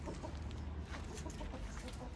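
Backyard chickens clucking softly and intermittently at a distance, low and muffled against a steady background hum, with no talking.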